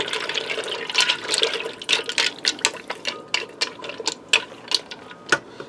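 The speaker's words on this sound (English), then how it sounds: "So let me get a little water in there." Water poured into a Ninja Foodi pressure cooker pot holding taco mac and cheese, a gurgling, splashing stream with rapid clicky spatters, close and moderately loud, no voices.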